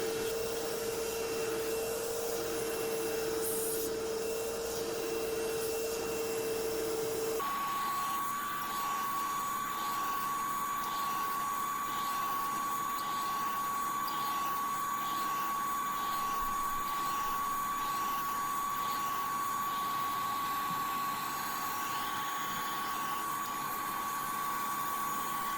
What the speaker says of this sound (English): So just keep turning it and vacuuming as you go.